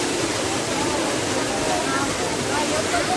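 A waterfall at Lago Azul in the Caatinga of Rio Grande do Norte, Brazil, roaring as a loud, steady, broad rush of falling water that fills the whole stretch without a break.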